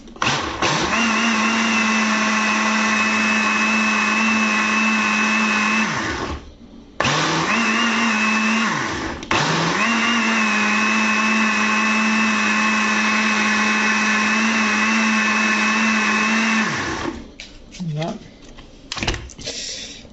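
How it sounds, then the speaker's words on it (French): A kitchen blender whirs loudly and steadily, mixing flour and semolina batter for Algerian baghrir crêpes, with two brief pauses before it winds down and stops. "je vais le mixer."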